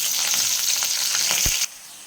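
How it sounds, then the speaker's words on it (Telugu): Sliced onions and curry leaves hitting hot oil in a pan for a greens fry, a bright loud sizzle with a single knock of a utensil before it drops away suddenly. "ఇందులోకి ఆనియన్స్, కరివేపాకు వేసేసుకుందాం. వేసుకుని కొద్దిసేపు ఫ్రై చేసుకుందాం."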